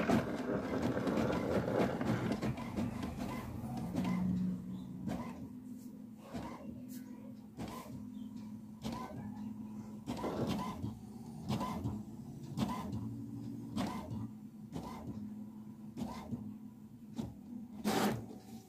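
An inkjet-style printer works through a print job with a regular series of mechanical whirs and clunks, roughly one per second, moderately close, with faint background noise and no clear speech.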